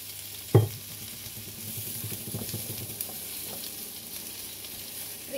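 Potatoes frying in a pan for chicken adobo, a steady crackling sizzle after a sharp clatter at the start as they go into the hot oil, with light stirring noises, no talk.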